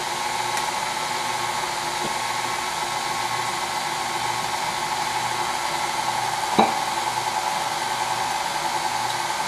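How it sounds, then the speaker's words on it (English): An electric mixer steadily beats pumpkin chocolate chip cake batter, a constant close motor hum with faint scraping and one brief clack partway through. "So I'm going to mix that out."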